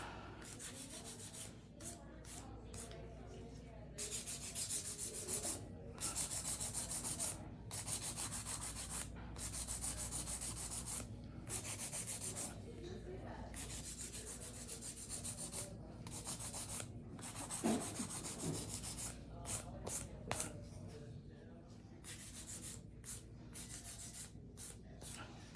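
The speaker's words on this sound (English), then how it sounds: "when you do hand filing, you're just bringing the curvature of the actual stiletto" Acrylic stiletto nails are hand filed with a steady, close scratchy rasping in repeated strokes over about twenty-five seconds, with short pauses between strokes.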